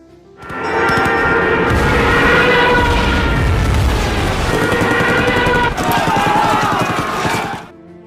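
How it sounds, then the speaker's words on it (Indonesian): Loud, dense rumbling battle noise from a World War II war film, enemy aircraft bombing and strafing, booms and rapid gunfire blending into a continuous roar, fading out at the end. "mereka semua dibombardir tembakan oleh pesawat musuh"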